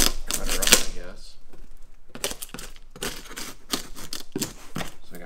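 A blade slices open a cardboard shipping box holding a Clevo D901C laptop, producing scratchy ripping and crackling strokes in short bursts, with a person talking over parts of it.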